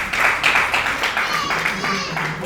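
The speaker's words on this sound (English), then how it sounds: "Please give him a round of applause." An audience claps at a Founders Day panel event on women-led businesses, a rhythmic patter of many hands with separate clap bursts, while a voice speaks over the applause.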